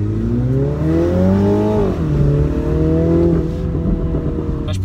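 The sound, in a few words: Mini Clubman JCW exhaust popping while revving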